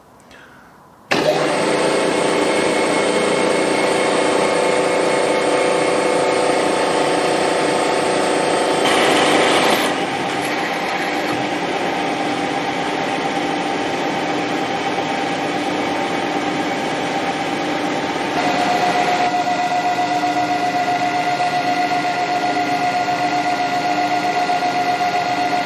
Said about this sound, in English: so let's get drilling and then some tapping.